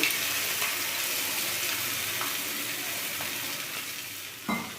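Spice paste sizzles steadily in melted butter in a pan for broccoli butter masala, a constant close frying hiss with a couple of faint utensil taps and a brief louder scrape near the end.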